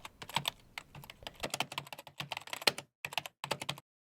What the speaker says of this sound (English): keyboard clicking,